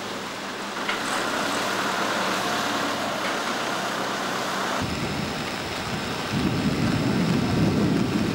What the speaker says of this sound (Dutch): Het regent en het regent.